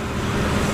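A truck heading down a rural road past poultry barns, a brief low rumble of engine and road noise, fairly loud and steady, with no talking over it.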